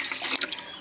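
Leftover starchy water from cooked rice pours onto a potted grape plant, a close, steady splashing gush of liquid lasting under a second.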